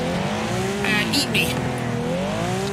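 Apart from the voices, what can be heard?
car driving in the video game Wreckfest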